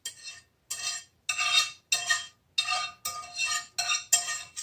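Eight or so steady, evenly paced strokes as a utensil mixes onions, mushrooms, arugula and spinach into a frittata, each stroke scraping and clinking against the pan, close and clear with no talking.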